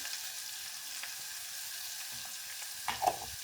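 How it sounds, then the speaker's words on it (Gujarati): Asafoetida goes into hot oil for an okra curry, with a faint, steady sizzle and light stirring, then a brief louder burst of frying near the end. "હવે આમાં થોડીક આપણે હિંગ નાખી દઈએ"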